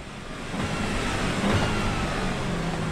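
Racing car engine in an online racing video game on the final lap, a loud broadband engine roar that swells slightly as it revs, heard alone without talk.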